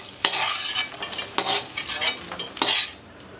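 Makhana (fox nuts) are dry-roasted in a pan for sugar-free dry fruit ladoo, with a spoon stirring in three scraping, rustling sweeps and a light clink of utensil on metal.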